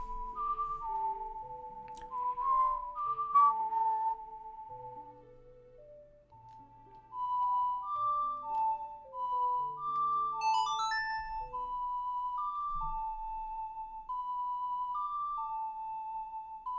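A gentle melody played in the video game The Legend of Zelda: Ocarina of Time, clear sustained tones rising and falling in a slow lilting tune, heard alone without speech.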